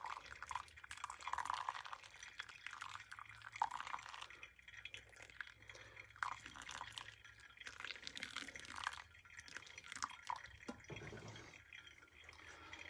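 Water trickling slowly from a kettle onto 19 grams of ground coffee in a V60 pour-over dripper, a soft steady pour and drip with faint clinks, close and quiet with no talking.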